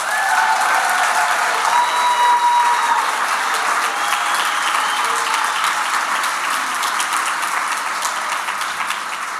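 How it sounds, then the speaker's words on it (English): A crowd of Boulder County Democrats applauds loudly and continuously in a hall, dense clapping holding steady for several seconds before easing slightly at the end. "Another round of applause."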